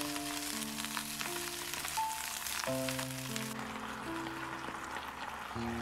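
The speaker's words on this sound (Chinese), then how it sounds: "炒香以后再倒入白菜，先把白菜慢慢的炒至软塌" Napa cabbage stir-fried in hot oil with ginger slices and scallion segments, a steady, close sizzle running throughout, with background music playing over it.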